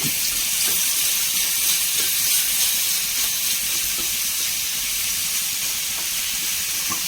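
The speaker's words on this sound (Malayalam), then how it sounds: "ചെറിയ ചെറിയുള്ളി മുഴുവനോടെ ഇട്ട് കൊടുക്കാം കൂടെ ചേർത്ത് നന്നായി വഴറ്റിയെടുക്കാം" Whole small onions sautéing in a pan for a squid roast, giving a steady, loud, even hiss and sizzle with faint crackles throughout and no talking.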